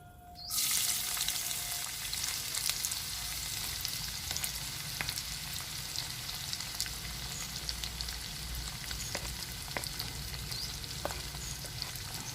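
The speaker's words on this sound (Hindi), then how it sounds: "प्याज को हमें ब्राउन होने तक नहीं भूनना, थोड़ा सा हल्का ही" Onions with three whole dried red chilies fry in a pan for khichdi; a loud, continuous close sizzle begins abruptly and carries on with occasional crackles and stirring clicks, no voices.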